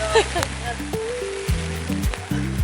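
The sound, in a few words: heavy rain falling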